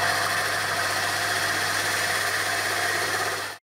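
Steady drill grinding a hole through a glass aquarium pane, a constant droning whir with a low hum, holding even for several seconds before stopping abruptly.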